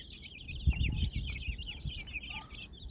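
Young chickens and bantams out on grass in a flowering garden cluck and chirp in a busy close flock, with soft low thumps underneath.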